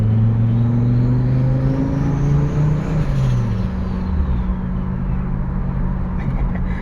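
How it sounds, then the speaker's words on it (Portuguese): A Fiat Marea's turbocharger winds down with a falling whine while a low flutter sounds beneath a steady, loud engine rumble close by. "você escuta ainda a turbina desacelerando, né? E o flutter bem no fundo"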